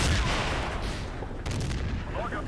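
Panzer III tank cannon fire in the Steel Fury tank game, sounding as loud dense rumbling blasts, a heavy burst at the start and another near the middle over sustained battlefield noise.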